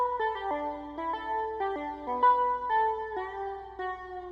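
A synth lead preset drenched in reverb plays a bright, stepping melody of short and held notes, clear and up front, with the tails blurring into each other and no voices present.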